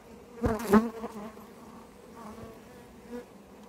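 Honey bees buzz around an opened hive during a spring inspection, a close, fluctuating drone with a couple of louder passes near the start and quieter buzzing after, no voices.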